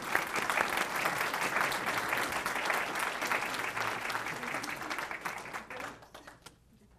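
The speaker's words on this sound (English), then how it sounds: "Let's give him a big round of applause." A seated audience gives a sustained round of applause after a speaker's introduction, steady dense clapping across the room that tapers off in the last second.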